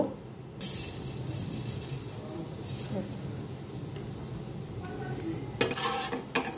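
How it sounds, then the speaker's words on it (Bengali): Nigella seeds sizzle in hot oil in a Bengali home kitchen, a steady frying hiss with a few sharp utensil clinks and scrapes near the end, close and alone. "এবার এতে একটু কালো জিরে ফোড়ন দেব।"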